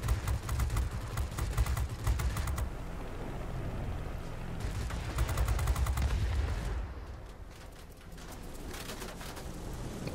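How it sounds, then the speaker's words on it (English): Rapid gunfire from a flying combat video game as aircraft are shot down, dense bursts of shots rattling on and off over steady engine drone, loud and close throughout. "we got a lot of people up here shooting them down."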